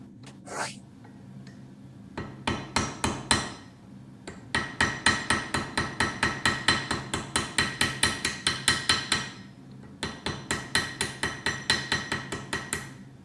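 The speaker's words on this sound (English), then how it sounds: "So then now I can take this ball peen and I will rivet the eye in place." Ball peen hammer riveting the eye of a hand-forged Viking pendant, a long run of sharp, evenly spaced metallic taps in quick rhythmic bursts with short pauses, close and clear, with a brief sniff near the start.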